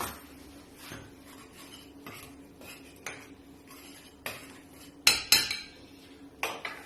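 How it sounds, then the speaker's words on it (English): A spoon stirs dry pancake ingredients with ginger and cinnamon in a bowl, giving soft repeated scrapes and sharper clinks against the bowl that grow louder toward the end. "And we'll stir this together."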